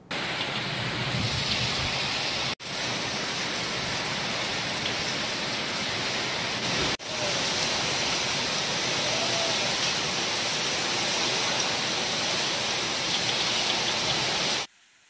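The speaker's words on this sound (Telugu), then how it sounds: "వర్షం కారణంగా విత్తనాలు కొట్టుకుపోతాయని పత్తి రైతులు ఆందోళనలో ఉన్నారు" Heavy monsoon rain hisses in a loud, unbroken wash, with a flowing-water rush beneath it, steady for the whole stretch apart from two abrupt short cuts, and no voices.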